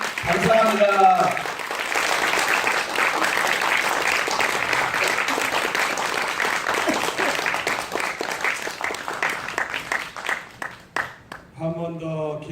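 A church congregation breaks into sustained applause to welcome a visiting pastor at a winter revival service, a dense wash of clapping lasting around ten seconds that thins out and fades, with a voice speaking briefly at the start and end.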